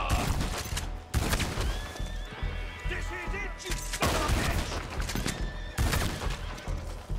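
Bursts of gunfire ring out in a Red Dead Redemption 2 Online shootout: loud volleys at intervals with horse whinnies and clip-clop mixed in and a voice talking underneath.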